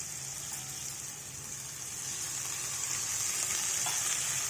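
Onions and gongura leaves cooking in a pan, a steady close sizzle and hiss of frying that swells slightly toward the end, with no voices over it.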